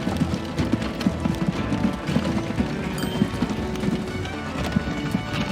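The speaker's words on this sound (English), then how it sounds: "To have the horses going about their business." Horses in the railroad-building game Transport Fever 2 walk with a steady, continuous clip-clop of hooves at moderate volume, the rhythm unbroken for the whole stretch with no voices over it.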